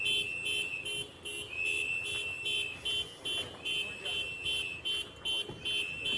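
Car horns honk at a street protest, sounding as a steady run of repeated blaring bursts in a regular on-off rhythm over a constant background din, somewhat distant and moderately loud.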